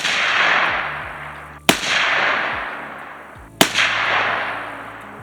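AR-15 rifle fitted with a JComp compensator firing at a 25-yard target outdoors, with two sharp, loud cracks about two seconds apart, each followed by a long rolling echo that fades slowly.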